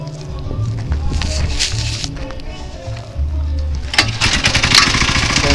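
A small go-kart engine idling and revving nearby, a buzzing lawnmower-like drone that surges in short bursts, with people talking over it.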